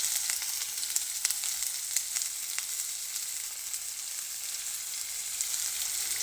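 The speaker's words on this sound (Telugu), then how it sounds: "ఆనియన్స్ బాగా వేగాలి, రెడ్ కలర్ వచ్చే వరకు" Chopped onions sizzle steadily in hot oil in a pan for egg pulusu, a continuous bright crackle with occasional sharper pops, close and alone without talk.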